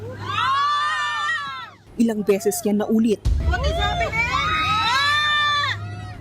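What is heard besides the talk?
passengers screaming inside a Philippine Airlines plane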